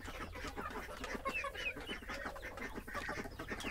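Native village chickens clucking steadily on a farm where they graze among grass, several birds close by with repeated soft clucks over continuous rustling background, no talking.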